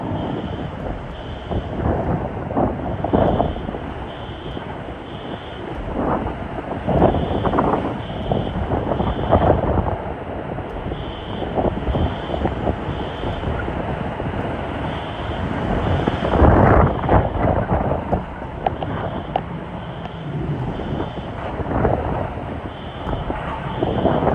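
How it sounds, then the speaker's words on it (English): Hurricane Ian wind in Punta Gorda, Florida: a continuous loud roar that keeps rising and falling in gusts, with heavy buffeting on the microphone close by and a steady high whine running through it. "This really helps focus the wind."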